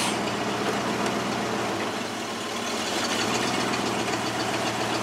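Car engine idling steadily in gear after a brake booster check valve replacement, a continuous close, even rumble with a faint rhythmic knock and no talking.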